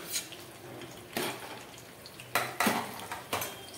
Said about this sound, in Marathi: आपले सर्व खडे मसाले याला छानपैकी 2 मिनिट तेलामध्ये परतून घ्यायचं आहे